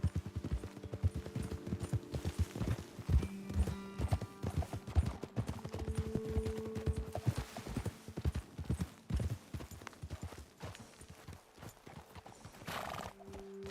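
Horse hooves clip-clop steadily in a fast riding rhythm in Red Dead Redemption 2, close and loud, with occasional neighs and whinnies breaking through the galloping beat.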